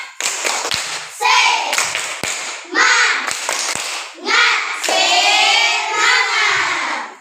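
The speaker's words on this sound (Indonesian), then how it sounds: "Tepuk semangat." A class of children claps a rhythmic spirit chant in a classroom, sharp hand taps and thuds landing in bursts between loud young voices calling out together.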